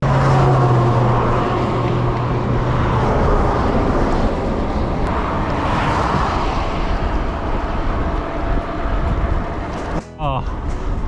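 Steady highway traffic roar heard from the roadside while bikepacking in Arizona, a continuous broad rush of passing vehicles that stays loud throughout, with a brief dip and a short clicking sound near the end.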